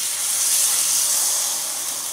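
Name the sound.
grilled cheese sizzling in hot frying pan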